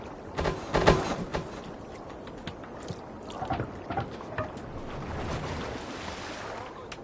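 A Viking longship crew pulls oars through the water in Assassin's Creed Valhalla on PS5, with splashing strokes and soft wash over a wind-and-sea backdrop, a few stronger strokes standing out early.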